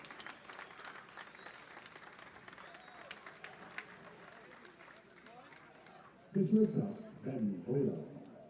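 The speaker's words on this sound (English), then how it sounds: "he gets a nice round of applause from the crowd" A baseball crowd gives a brief round of applause, distant and fairly faint beneath a commentator's voice, with louder bursts of crowd noise near the end.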